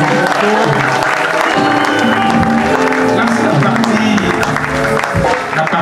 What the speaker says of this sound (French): sous les acclamations de tout le peuple de Dieu